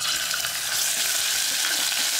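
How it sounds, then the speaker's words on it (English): Garlic hitting hot olive oil in a pan, a steady close sizzle and crackle of frying that runs unbroken from start to finish. "Once your oil is hot, add your garlic."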